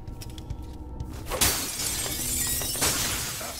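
In Dishonored 2 at the Royal Conservatory, a pane of glass bursts with a sharp crash amid soft game ambience, then a second smaller burst of breaking glass follows moments later.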